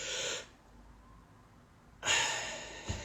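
A person demonstrates deep breathing: a brief audible breath, a quiet pause, then a longer, louder deep inhale with a short sharp catch of breath at the end, close and alone without speech.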